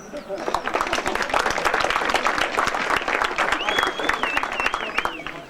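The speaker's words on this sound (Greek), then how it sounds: "Ένα θερμό χειροκρότημα." Warm, sustained applause from a large theatre audience at a 1997 Easter comedy show in Kozani, dense steady clapping filling the space with faint crowd murmur and a whistle-like tone near the end.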